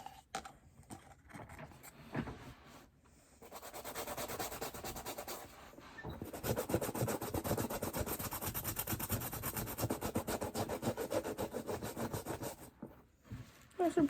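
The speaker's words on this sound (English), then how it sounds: "Back to scrubbing." Shoes are scrubbed clean with a brush, a faint, steady rasping of back-and-forth strokes that builds into a sustained stretch after a few scattered opening scrubs, then ends with a couple of short strokes.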